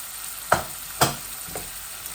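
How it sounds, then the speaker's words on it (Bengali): Turmeric, coriander and chili fry in a pan with a low, steady sizzle, broken by three sharp spatula taps about half a second apart, with no talk. "একসাথে ভাজা ভাজা হয়ে যাক"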